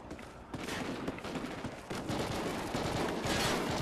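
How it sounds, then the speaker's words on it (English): Sustained gunfire from the video game Call of Duty Ghosts, loud and continuous throughout, with overlapping bursts of automatic and rapid fire forming a dense barrage and no clear talk. "I want more gunfire, more gunfire."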